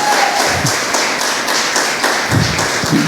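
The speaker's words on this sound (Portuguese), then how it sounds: "Aplaudem a Jesus" Church congregation applauding during a sermon, a dense, loud patter of many hands clapping in steady, fairly even pulses throughout, with a few low thuds mixed in.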